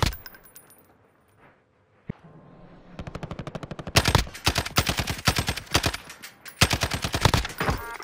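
Rapid gunfire from a first-person shooter video game, starting with scattered single shots and quiet moments, then loud sustained automatic bursts in close succession toward the end.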